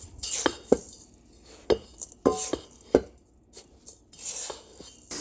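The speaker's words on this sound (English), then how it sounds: "I did decide to chop up some of my caramel bits" A knife chops through caramel bits on a cutting board for cookie dough, in sharp irregular knocks, about eight distinct cuts with short pauses between, close and clear.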